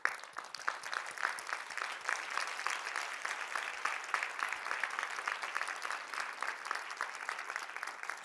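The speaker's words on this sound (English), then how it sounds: "Yeah, you guys can clap for that." An audience claps together, a crackling spread of hands at moderate distance that stays even and sustained for the whole stretch.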